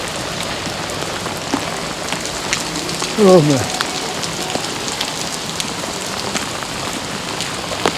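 Heavy rain patters steadily on surfaces during a street walk in Beeston, Nottinghamshire, a constant close hiss of drops throughout, with a brief spoken exclamation partway through.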